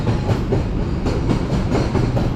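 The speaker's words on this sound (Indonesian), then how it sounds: "lumayan kereta barang tuh panjang banget" A long freight train rolls past on a railway line, a loud continuous rumble and steady clatter of wagons with rhythmic clicks of wheels over rail joints, close and unbroken.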